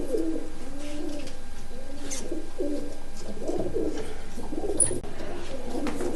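Pigeons coo steadily in a loft, a large bird with white and black eyes among them, their low throaty phrases repeating close to the microphone over a constant background hiss.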